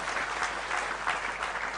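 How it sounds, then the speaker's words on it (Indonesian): A brief burst of steady audience applause from a large evening gathering of mostly university students, continuous and moderately loud throughout. "Pak Kiflan Zain, saya mohon Anda tepuk tangan semua untuk cinta dan perkenalan kita pada malam hari ini"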